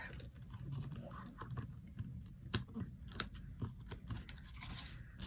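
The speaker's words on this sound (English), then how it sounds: "all we need to do is take off the backing of this tape" Backing being peeled off adhesive tape while making a paper envelope treat box: close, faint crinkling and scratchy tearing with small clicks scattered through, no talk.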